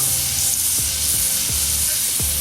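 Flipped ribeye steaks sizzle in a hot pan, a constant loud hiss and crackle with a few soft scraping stirs.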